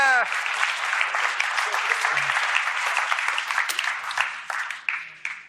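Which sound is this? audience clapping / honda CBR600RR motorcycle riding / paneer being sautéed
audience clapping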